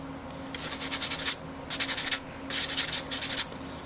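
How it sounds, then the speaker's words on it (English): Small plastic parts of a T-62 tank model kit being sanded by hand in three bursts of quick rasping back-and-forth strokes, close and crisp with short pauses between. "because they're smaller size, it is a little harder to sand them"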